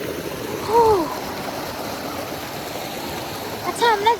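A mountain river flows in a steady, broad rushing wash, close and continuous, with a voice speaking briefly over it twice.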